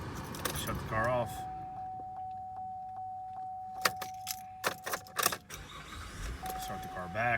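Keys jangle in the ignition of a 2012 GMC Acadia during an oil change, with a steady chime tone, clicks and a brief engine start, close and loud; someone talks at the beginning.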